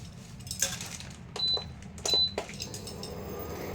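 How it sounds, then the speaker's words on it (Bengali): A frying pan is set down on an induction cooktop with a few short metallic clatters and clinks, close by, over a steady low hum in a quiet kitchen, no talking. "ফ্রাই প্যানটা বসিয়ে দিয়েছি।"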